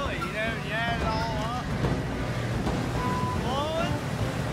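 Loud, steady roaring wind buffets the microphone in gusts, with birds calling and faint voices underneath.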